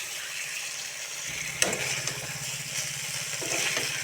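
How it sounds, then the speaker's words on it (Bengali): Potatoes sautéed in spice paste in a pan for rui fish curry, a soft continuous sizzle with an occasional scrape of a spoon stirring, close and untalked-over, a low hum underneath. "এবার মশলার সঙ্গে আলু ভালো করে কষিয়ে নিব"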